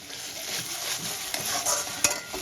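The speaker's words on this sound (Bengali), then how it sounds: "মশলাটা দিয়ে আমি কষিয়েছি" Spices frying in a pan for a Bengali rohu fish curry give a quiet, steady sizzle broken by scraping stirs and a few sharp clinks of a spoon against the pan.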